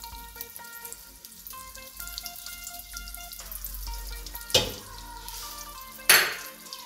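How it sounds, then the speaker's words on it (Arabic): Butter and olive oil melting over low heat in a pan give a soft, steady sizzle and crackle, with two sharper clatters of a pan or utensil near the end. "هذه الزبدة خليها تسيح شوية، الغاز ما يكونش قوي، يكون نار هادية باش ما تتحرقش الزبدة"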